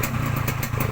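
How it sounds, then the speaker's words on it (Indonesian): A Yamaha RX-King two-stroke motorcycle with a reworked exhaust baffle runs close by, giving a brief, steady, raspy buzzing note with a pulsing rattle. "Kalau dapat yang bagus suaranya bisa juga seperti ini."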